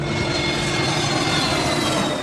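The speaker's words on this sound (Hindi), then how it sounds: "मुंबई के हवाई अड्डे से विमान रनवे पर दौड़ता हुआ उड़ान भरता है।" A passenger plane roars steadily as it races down the runway at Mumbai airport to take off, a loud continuous engine rumble and whine filling the whole moment with no talk.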